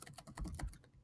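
A template name is entered on a computer keyboard: a quick, soft run of closely spaced keystrokes, faint and near, lasting about a second with no voice.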